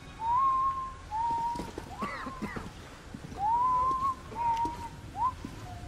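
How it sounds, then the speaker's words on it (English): A character in the video game Metro Last Light whistles a simple tune in short sustained notes, two phrases separated by a pause, over faint background game sounds. "That's it, keep whistling."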